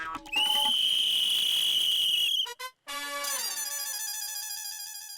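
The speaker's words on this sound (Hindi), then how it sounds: "पुलिस की सीटी की भी कोई वैल्यू नहीं" A police whistle gives a loud, sustained shrill blast, breaks off briefly, then sounds again with a long warbling trill that slowly fades, heard alone without voices.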